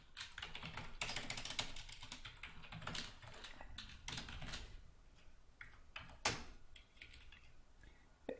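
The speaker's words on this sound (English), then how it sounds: "So I could start typing, JavaScript code in here." Fingers type JavaScript code on a computer keyboard in quick irregular bursts of clicking keystrokes, close and clear, pausing briefly between runs, with no voices.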